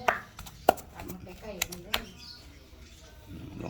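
Fresh freshwater fish flesh pounded with a pestle in a mortar, several sharp, fairly close thuds at an uneven pace with softer knocks between, while someone talks over the pounding.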